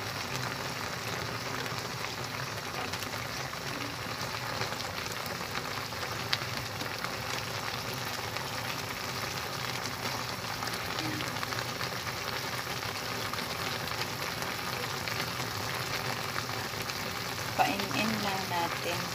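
Sour kamyas frying in hot oil, a steady close sizzle and crackle that runs unbroken throughout, with no talk.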